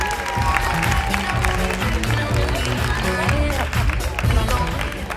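An audience applauds a jury member at the Miss Wellness Beauty 2018 pageant, with continuous crowd clapping blended with loud background music and a voice over the top.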